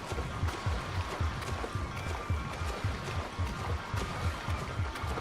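Ocean waves in the video game GTA 5 slosh and splash steadily around a swimming character, with a continuous watery rush and soft rhythmic low surges throughout.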